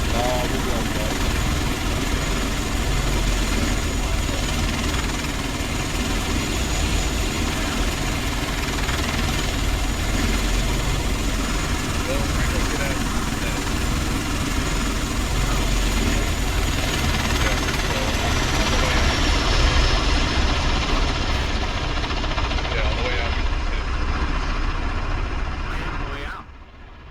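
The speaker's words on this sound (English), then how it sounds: "Oh, because there's a heli above us. We're being heavy lifted." A helicopter hovers close overhead while heavy-lifting a patrol boat in a video game, a loud, steady rotor and engine roar that drones on throughout before easing slightly at the end.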